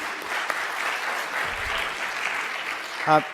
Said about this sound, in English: One more round of applause for the speakers.